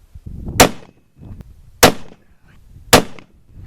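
Three loud, sharp rifle shots from a .300 Win Mag fired at a shooting range, evenly spaced about a second apart, each a close, cracking blast with a short decaying tail and quiet between.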